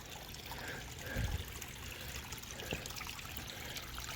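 Water trickles steadily in a small stream in a goldfish pond fed by a hidden filter, a soft continuous babble with a few low gurgles.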